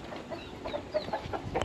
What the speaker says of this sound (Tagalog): may mga alaga silang manok dito